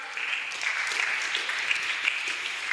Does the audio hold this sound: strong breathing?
no